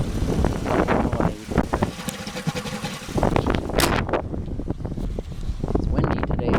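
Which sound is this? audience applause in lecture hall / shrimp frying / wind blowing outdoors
wind blowing outdoors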